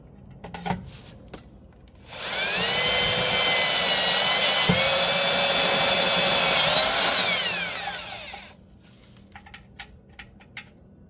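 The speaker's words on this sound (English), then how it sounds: "All right, so we're gonna drill this one." A power drill with a step bit whines steadily for several seconds as it grinds through a metal Can-Am X3 skid plate, its pitch climbing slightly before stopping, with quiet clatter before and after.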